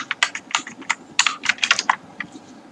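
Computer keyboard typing CSS code, a close burst of quick, uneven clicky keystrokes clustered in short runs, heard alone with no talking.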